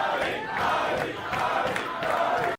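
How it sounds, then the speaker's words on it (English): A crowd cheers and shouts for Ali just before a speech, a dense roar of voices rising and swelling throughout. "the people cheering for Ali right before Azoulay's gonna give his speech"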